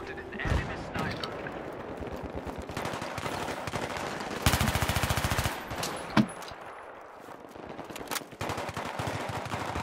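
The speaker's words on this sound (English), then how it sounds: "Someone's shooting at us from up front somewhere." Automatic gunfire in Battlefield 2 on the Strike at Karkand map, with rapid bursts and rattling volleys, some near and some distant, running continuously under intermittent talk.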